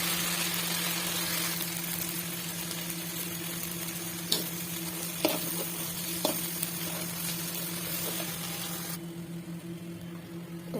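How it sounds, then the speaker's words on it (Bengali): Green peas, green chilies and salt frying in a pan, a steady close sizzle with a constant low hum beneath and a few sharp clicks from stirring, no talking, the hiss dropping off near the end. "এখানে মটরশুঁটি কাঁচামরিচ লবণ দিয়ে একটু নাড়াচাড়া করে টক দই দিয়ে দেবো।"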